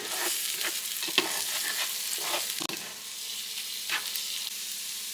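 Eggs seasoned with salt and black pepper frying in a pan, with a steady close sizzle broken by several soft scraping stirs of the utensil against the pan.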